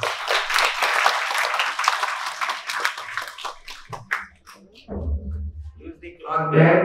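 Clapping from a school audience at an Earth Overshoot Day event in Hyderabad, dense for the first few seconds, then thinning into scattered claps and voices.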